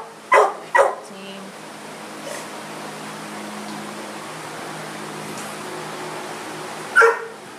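Dogs in an animal shelter's kennels bark in a few sharp, loud bursts near the start and once more near the end, over a steady background hum.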